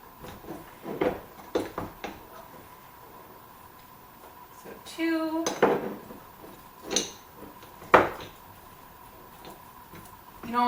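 A metal teaspoon clinks and taps against mugs while thick, semi-solid honey is spooned in, giving scattered light ticks and knocks at irregular intervals, close by, with a voice speaking around them.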